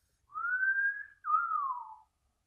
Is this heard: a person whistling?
yes